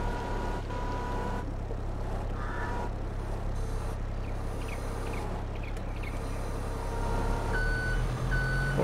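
Forklift reversing alarm in Farming Simulator 22, steady repeated beeps over a continuous low engine hum, with a few distant bird calls in the background.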